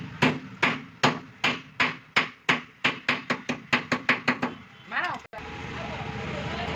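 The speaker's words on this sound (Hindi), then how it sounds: "तो ऊपर वाला बैरिंग देखिए यहाँ पर फिट हो गया है और इसे हथौड़ी से अंदर की तरफ बैठा लेना है अच्छे से" A hammer taps an e-rickshaw handle bearing into place, about twenty sharp metallic strikes in a steady, quickening rhythm close by, then a scraping shift and quieter clatter.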